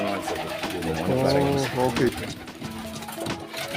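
Young pigeons, squabs, coo and warble in a poultry keeper's loft, close by and fairly loud, with soft bubbling calls over steady background rustle.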